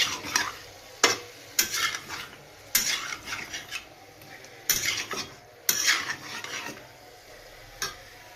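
Chicken cooks without oil in a pan as it releases water for an Assamese-style curry, a spatula stirring and scraping in repeated bursts over a soft wet sizzle, and no speech.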